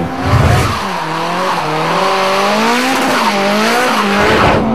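Drift cars racing inches apart on a track, tires squealing loudly in long wavering howls that bend up and down in pitch under a steady engine roar, continuous throughout without speech.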